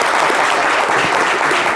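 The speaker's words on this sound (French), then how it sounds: "Applaudissements pour nos gens, s'il vous plaît." Loud, dense applause from an audience at a live broadcast show, a continuous wash of many hands clapping close by for the whole brief moment.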